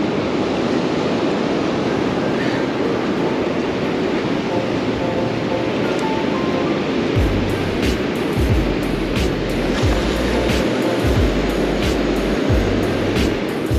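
Loud, steady surf rolls onto the shore at a beach where people fish for Dungeness crabs, the rush of breaking waves constant throughout, with heavy wind noise gusting on the microphone in the later half and no speech.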